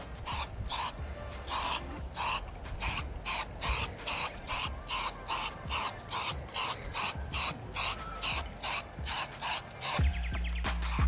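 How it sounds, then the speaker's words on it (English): A spray can laying primer onto a rocker cover in a rapid series of short, even hissing bursts, close and fairly loud, with a steadier spray toward the end. "Spray some primer down and see what it looks like."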